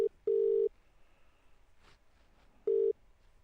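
A telephone call rings out, with a close, steady tone sounding in two short pulses separated by a quiet gap, then a third after about two seconds.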